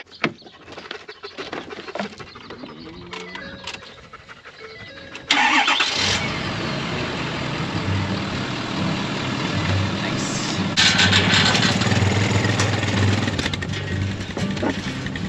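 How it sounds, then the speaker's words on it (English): A truck on a cattle farm cranks for several seconds, fires up loudly, and settles into a steady, close idle that rises briefly partway through. "I wonder if the truck will start."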